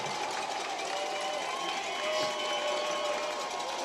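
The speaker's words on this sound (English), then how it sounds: "Crowd into it again." A football crowd at a high school game against Marian roars steadily from the stands during a third-and-goal play, a continuous, distant-sounding wash of cheering with a play-by-play voice under it.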